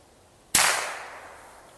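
A single sharp crack of a Cricket .22 youth rifle fired outdoors, loud and close, with a short fading tail after the shot.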